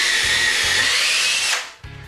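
A power drill bores a hole into a wooden wall, a loud, continuous high-pitched whine with faint low knocks underneath. The motor winds down near the end, then a short thump follows.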